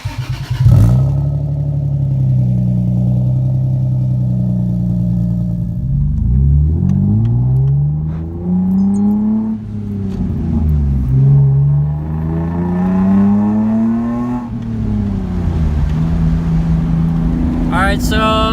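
A stanced Lexus IS300 drives on a test run, its engine note rising and falling through several gear pulls and revs, close and steady throughout.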